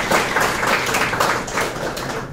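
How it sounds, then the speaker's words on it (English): An audience claps together for a volunteer at a group discussion session, a dense, fairly loud burst of applause that holds steadily throughout without any voices over it. "Give him a round of applause."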